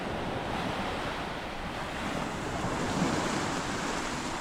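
Wind gusts across the seashore at Luck Bay, near Esperance, with a steady, dense rushing roar blended with crashing surf that swells slightly near the end, and no voices.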